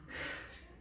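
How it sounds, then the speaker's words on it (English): A single short, breathy snort drawn in through the nose, close and fairly quiet, lasting under a second. "Can you not snort?"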